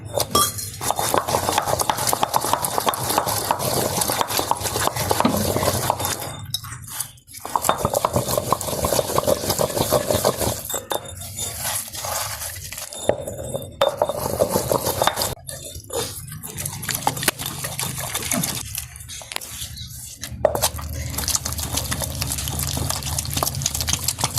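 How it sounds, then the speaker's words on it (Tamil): Greens chutney ground with a little water in a stone grinder, heard as close, wet scraping and clinking strokes in a steady rhythm with brief pauses between passes. "கல்லரைக்கிற துவையலை நம்ம குடகுல தான் ஆட்ட போகிறோம்"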